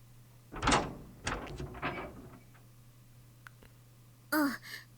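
Door sounds in the video game Chaos;Head Noah, with a soft creaking swish followed by a few quieter clicks and bumps, and a brief vocal burst near the end.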